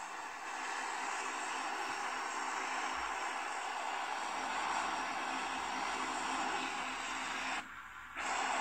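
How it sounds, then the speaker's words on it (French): A passenger airplane roars steadily through its takeoff, recorded on an Honor 30 Pro phone, a broad continuous engine rumble and hiss that holds level for several seconds and dips briefly near the end. "on est parti pour le décollage"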